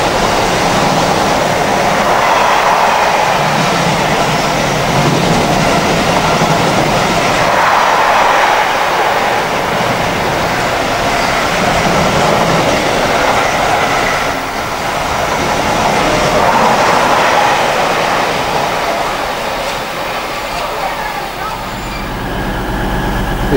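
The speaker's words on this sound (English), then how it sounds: "And another freight train." A freight train hauled by locomotive 66564 rumbles past at close range near Banbury, a loud, steady roar of wagons that holds for the whole stretch and eases slightly near the end.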